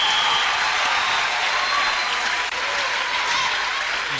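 A church congregation in Brazzaville, Congo claps and cheers for the Lord in a dense, sustained roar of applause that fills the whole stretch without a break.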